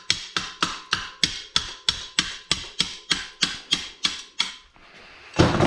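Hammer blows during mountain bike tuning, about fourteen sharp, evenly spaced metallic taps in quick succession, close and fairly loud, ending in a short pause and a rustle.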